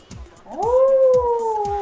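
A yeti howl sound effect: a loud, drawn-out howl rises quickly and then holds a long wavering note, with soft thumping sounds underneath.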